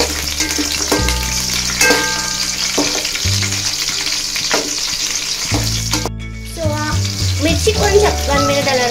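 Green chillies frying in hot oil with mustard seeds and cumin, a close, steady sizzle with stirring knocks and scrapes, under background music and some faint voices.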